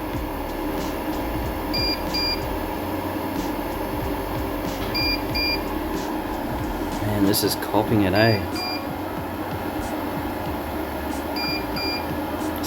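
A Kings 3000W inverter beeping repeatedly under heavy load, with short, regular high-pitched double beeps over a constant fan hum and electrical drone, while someone talks briefly partway through.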